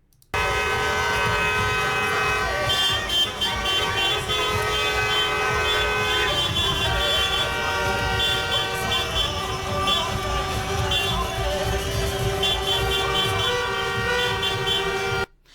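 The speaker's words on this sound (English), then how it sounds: "all the cars start to honk" Car horns honking in celebration of a wedding in France, a dense, continuous chorus of overlapping toots and blares from many vehicles, loud and sustained throughout with traffic noise underneath.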